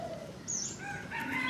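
A jungle fowl rooster gives a short crow, fairly clear and close against a faint outdoor background, with no voices.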